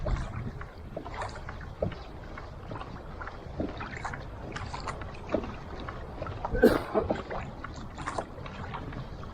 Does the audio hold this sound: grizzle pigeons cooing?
no